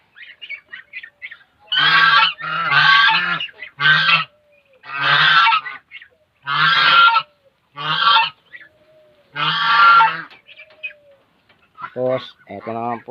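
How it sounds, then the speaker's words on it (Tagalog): Geese and other fowl honking and calling loudly in repeated bursts at a farm where newly hatched ducklings are kept, the calls close and harsh with short gaps between. "Mga ducklings. Mga bibe."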